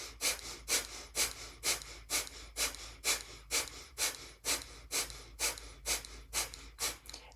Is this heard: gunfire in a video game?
no